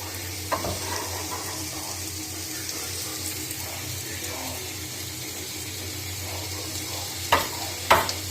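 Mushrooms frying in hot oil on high heat: a continuous close hiss of sizzling with faint stirring, a few sharper clicks from the pan near the end, no talk.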